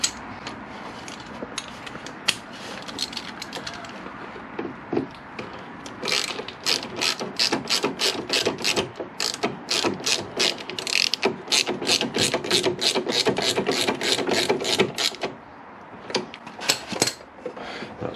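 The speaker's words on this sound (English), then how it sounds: "Let me get a spanner on the inside." Rapid ratchet spanner clicking while tightening a fastener on the fork of a Peugeot Django 50 scooter during a fork rebuild, first a few scattered clicks, then a long steady run of close, loud ratcheting strokes.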